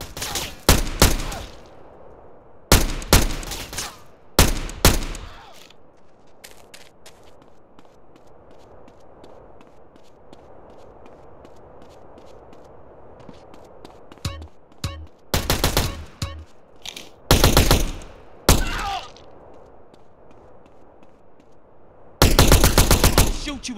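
Gunfire in modded GTA San Andreas gameplay: loud bursts of rapid automatic shots come in separate clusters, with quieter stretches of background game noise and light footsteps between the volleys.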